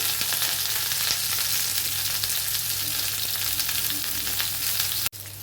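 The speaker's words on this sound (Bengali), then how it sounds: "পটলগুলো লাল লাল করে ভেজে নেব।" Pieces of pointed gourd (potol) fry with salt in a pan, making a loud, steady sizzle that continues nearly throughout before a sudden clunk near the end.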